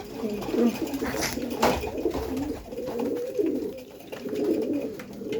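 Several flying pigeons coo close by in a continuous low, rolling chorus, punctuated by a couple of brief rustling thumps.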